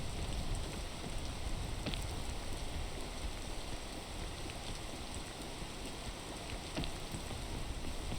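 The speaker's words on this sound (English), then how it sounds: "now that it's raining" Steady rain falls in the climbing video game PEAK, a dense even hiss that holds for the whole stretch with a few faint drop ticks and no talk.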